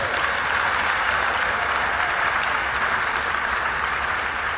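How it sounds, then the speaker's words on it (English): A conference audience applauds its rapporteurs: dense, even clapping that holds steady and fairly loud from start to finish, with no voices above it. "give a big round of applause up front for our rapporteurs"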